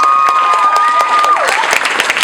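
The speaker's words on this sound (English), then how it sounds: "Can we give her a round of applause?" Loud applause and some cheering from the audience at a high school poetry evening as the next poet is introduced. The clapping is steady throughout, with a thin sustained tone running underneath.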